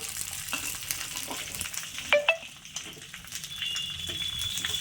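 Mustard, cumin and fenugreek seeds sizzle in hot oil in a pan, a close, steady crackling hiss with a couple of sharper pops and a thin metallic scrape partway through.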